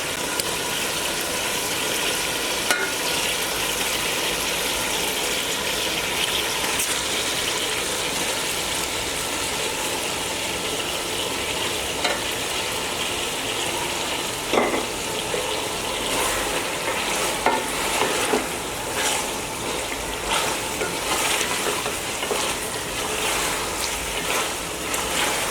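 Chicken pieces go into a pot for akhni polau and fry there, a steady moderate sizzle broken by scraping stirs and occasional clatter, with no talking over it.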